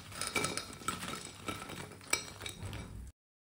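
Fried pakoras are tipped from a strainer onto a plate, giving a run of light clinks and scrapes of metal against dishware with one sharper knock near the end, close and fairly quiet, with no talking.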